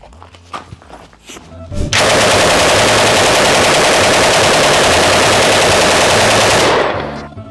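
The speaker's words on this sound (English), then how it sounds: "it's one of the lowest recoil machine guns that Brandon has" A loud, close, sustained burst of fully automatic fire from a low-recoil light machine gun at a range, roughly five seconds of rapid continuous shots after a few softer sounds, then ending abruptly.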